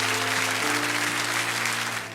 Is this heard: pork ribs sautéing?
no